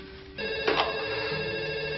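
A telephone rings indoors in a French thriller film scene, its electronic ringtone starting abruptly and continuing steadily and loudly with a brief burst of louder noise near the start.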